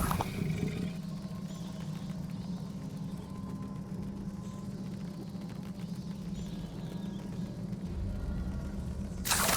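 An angry troll in Hogwarts Legacy roars in a deep, sustained bellow over a thick rumble of game noise, loud and steady throughout with no talk.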